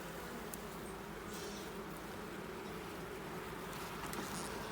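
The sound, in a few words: honey bees buzzing around a beehive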